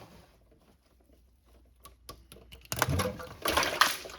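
Fluid pours out of a tilted pan on a 1964 Chrysler New Yorker Town and Country, beginning as soft scattered drips and then turning into a louder, splashing flow in two surges toward the end.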